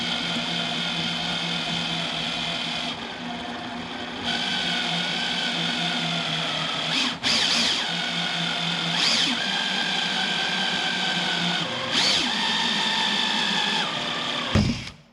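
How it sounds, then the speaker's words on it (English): A power drill whines steadily while drilling into a car bumper, its pitch shifting as it starts, stops and revs again several times, with a brief knock near the end. "So then when we go it forwards, nice and gently, let the drill do the work."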